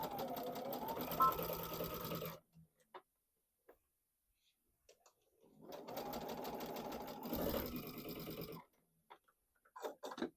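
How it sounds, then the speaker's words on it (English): Sewing machine backstitching seams on a heart-patterned table runner, running in two steady bursts of rapid mechanical stitching separated by a quiet pause, with a few faint clicks at the end. "Okay, I'm going to start sewing this. I am going to backstitch."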